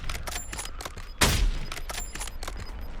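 Gunfire in the battle-royale shooter Warzone: a burst of rapid, clipped shots with one loud close report standing out midway, surrounded by lighter repeated firing.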